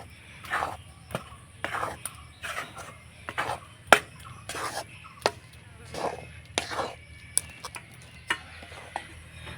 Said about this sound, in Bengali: উনুনের আঁচটা হালকা রেখে অনাবর্ত এইভাবে করে নাড়াচাড়ানো করব।